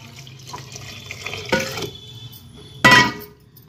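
Water is poured into a pot while sambhar cooks, with two short splashing pours and a clink of the pot, heard close and alone.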